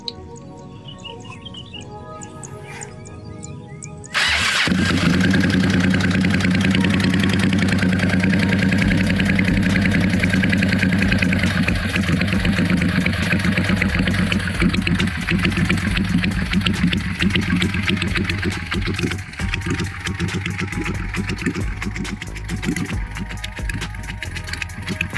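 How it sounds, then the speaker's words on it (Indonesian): A Honda NV400 V-twin engine, converted to a scrambler, fires up after a few quiet seconds with faint birds. Its exhaust then runs steadily and loudly, with a throbbing idle rumble close by. "Kita cek sound, knalpotnya."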